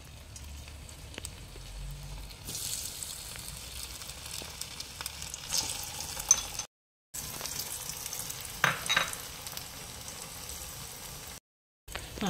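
Rajma cheese balls coated in toast crumbs drop into hot oil and fry with a steady, close sizzle and bubbling, broken by two brief silent gaps, with no one talking.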